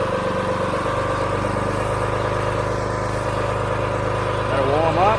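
A pressure washer's engine runs steadily as it warms up, a close, even mechanical drone with a rough pulsing texture, and a voice briefly joins near the end.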